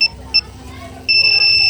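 A Gravis V2 electric scooter's alarm sounds loud and close: two short, shrill beeps, a brief pause, then a sustained high-pitched tone that runs to the end.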